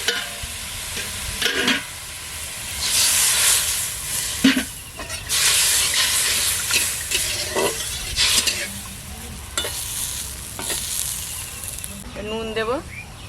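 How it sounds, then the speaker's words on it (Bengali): Water is poured into a hot pan of oil while cooking a spicy potato and lentil-dumpling curry in a village kitchen, producing bursts of loud hissing sizzle with stirring and scraping, and a person talking at times. "এবার জল ঢেলে দেবো"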